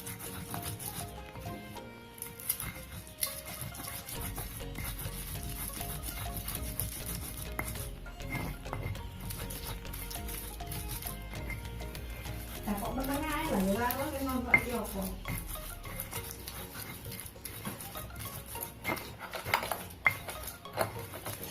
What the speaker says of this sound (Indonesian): Yang terakhir, ulek juga cabenya. Cabenya alot sekali.